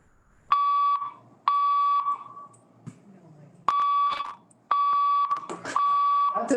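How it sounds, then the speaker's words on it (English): A fire alarm sounds inside a council building during a regular meeting, with repeated loud electronic beeping bursts of about a second each. The pulses come in an uneven sequence, and scattered room noise sits between them. "That's a fire alarm, and we are now going to have to vacate the building."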